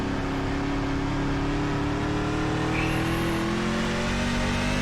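Dirt truck engine in the iRacing sim at Knoxville Raceway, held at low, steady revs with a continuous loud drone and slowly rising harmonic pitch, no talk.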